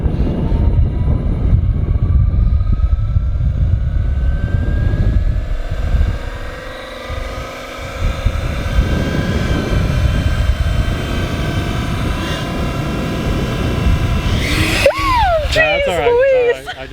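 A Fly Wing EC135 RC helicopter spools up, its rotor and motor producing a loud, steady whir and drone that builds and holds close by, with a sharp bright whine surging near the end as the throttle is pushed hard.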